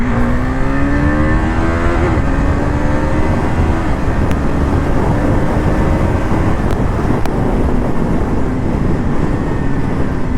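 KTM RC 390 motorcycle engine revving up hard then dropping off as it brakes, with rising and falling engine tones over steady wind rush, loud and close throughout.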